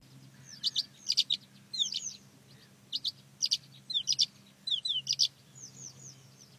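A skylark sings in quick high twittering phrases, repeated with short gaps, over a faint low hum.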